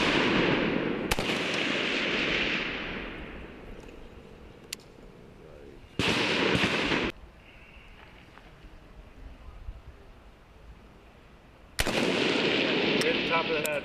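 Rifle shots fired at shooting targets ring out as three loud, sharp cracks spaced several seconds apart, each followed by a sustained roar of echo and noise, with quieter rumbling in between.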